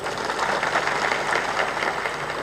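A crowd at a devotional spiritual discourse claps steadily, a dense and even patter of many hands that holds for a couple of seconds at moderate loudness.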